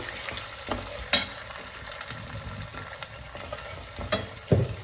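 Chopped onions frying in oil in a pan for a bottle gourd tamarind curry, a steady low sizzle with occasional stirring scrapes and clinks, close and alone with no talk.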